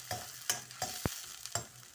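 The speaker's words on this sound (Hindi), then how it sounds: "अब मैं थोड़ा मसाला बनाने लगी हूँ ग्रेवी के लिए। ठीक हो गया? इसको मैं करती हूँ हल्का सा फ्राई करके।" Onion and two small pieces of cinnamon frying in oil for a masala gravy. The pan gives a soft, steady sizzle, broken by several sharp scraping stirs of a spoon against it.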